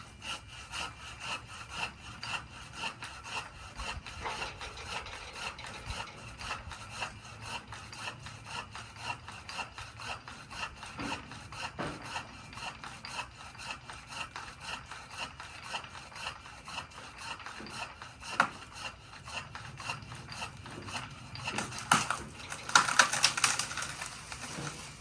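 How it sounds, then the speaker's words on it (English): A manual pole saw cutting through a tree branch during a tree inspection, giving a steady rasping back-and-forth stroke rhythm that continues for the whole stretch, growing louder and rougher near the end as the cut finishes. "You're going to cut it with the pole saw, huh?"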